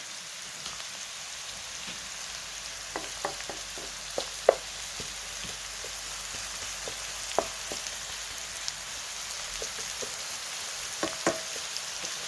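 Onions and spices sautéing in a pan for idiyappam kothu, a steady soft sizzle with scattered small pops and crackles throughout, fairly quiet and alone.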